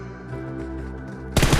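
A burst of loud automatic gunfire cuts in abruptly near the end in the Battlegrounds Mobile India game, following a steady, droning hum.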